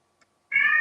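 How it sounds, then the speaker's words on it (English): A cat lets out a single short, sharp meow at close range after a faint tick, with nothing else around. "Cat's answering you."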